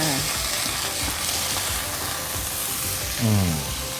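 A fresh king mackerel steak grills on a hot pan with rosemary laid on top, giving a steady, close frying sizzle throughout, with a brief louder burst of hiss near the end.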